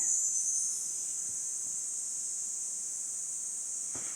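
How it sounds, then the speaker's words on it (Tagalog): Cicadas or crickets chirp in trees in a dense, continuous high-pitched drone that stays steady and fairly loud from start to finish, with a brief soft thump near the end and no talk. "Yun po yung kuliglig, yung dinadakma natin kanina. Andiyan po sa mga puno na yan."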